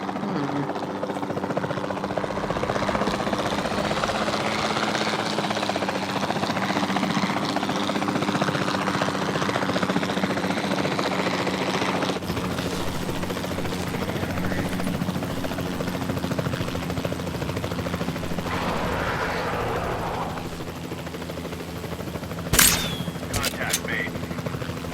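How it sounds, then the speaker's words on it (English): Capture team helicopter in Jurassic World Evolution 2, a steady droning rotor and engine hum held throughout at moderate level, with a brief sharp click or shot late on. "the sensible thing is to take a capture team helicopter"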